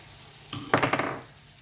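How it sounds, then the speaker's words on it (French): Garlic, onion, ginger and sugar hit a hot pan over low heat with a sudden close sizzle, crackling briefly as they are stirred, then settling into a softer fry. "à feu doux y faire revenir l'ail, l'oignon, le gingembre et le sucre"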